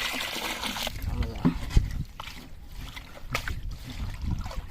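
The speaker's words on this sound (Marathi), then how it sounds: "मला आणि कारपाली धुवून दाखवतो तुम्हाला" Freshly caught fish and prawns being rinsed in water by hand, with irregular splashes and sloshing close by, a couple of sharper splash bursts standing out over a continuous watery background.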